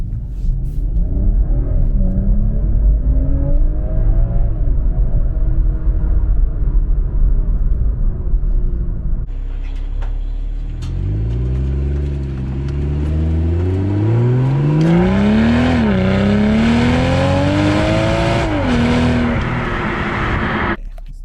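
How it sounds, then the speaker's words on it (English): A 2023 BMW M340i makes a takeoff with its Iconic Sounds feature switched off. A low, loud exhaust rumble idles and builds through several rising revs, then surges into hard acceleration with climbing gear pulls close by. "we'll do a takeoff with Iconic Sounds off"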